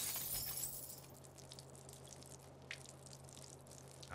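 Chemical containers in the South Park: The Fractured But Whole video game smash on the floor with a sharp glassy shatter, followed by a few faint trickling drips and settling clinks over a low steady hum.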